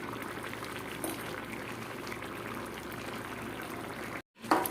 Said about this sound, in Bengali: তরকারিটা কত সুন্দর ফুটছে।